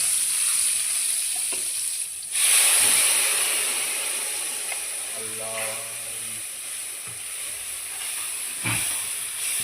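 Ground spice paste sizzling in a pan for fish curry, a steady close hiss of frying that swells briefly, with a voice speaking over it.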